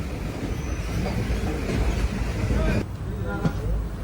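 Passenger train on the Kakinada to Mysore route running near Guntur, a continuous low rumble with wheel and carriage noise, a brief shift in tone partway through, and some talk mixed in.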